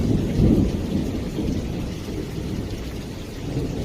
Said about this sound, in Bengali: তাহলে কত পরিমাণ বৃষ্টি হচ্ছে, সঙ্গে দেখুন ঝড়ো হাওয়া হচ্ছে